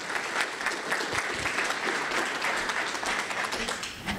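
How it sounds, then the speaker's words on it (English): Audience applause for a guest presenter at a fentanyl education session, steady and dense clapping from a sizable group, moderately distant and even throughout, with no talk over it. "We'll give Amber a round of applause."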